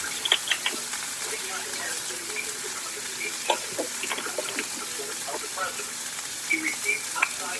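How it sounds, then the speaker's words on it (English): A salmon fillet searing on one side in hot oil, a moderate continuous sizzle with sharp crackles and spits scattered across it, heard fairly close with some faint background clatter. "I'm putting my fish into the oil. We're only going to sear one side."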